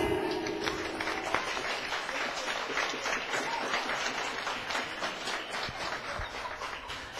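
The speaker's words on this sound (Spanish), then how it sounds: "Aplausos para José Luis" An audience at an awards night applauds the evening's winner, José Luis, with dense, continuous clapping that holds steady throughout, fairly loud and even with no voices rising above it.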